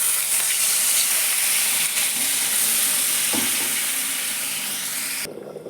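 Water poured into mango pieces frying for chutney sets off a loud, steady sizzling hiss that slowly eases before cutting off abruptly, with no voices.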